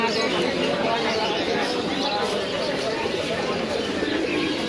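Fancy pigeons coo and flutter at a busy pigeon market in Mirpur-1, mixed into a constant crowd murmur. People talk nearby throughout.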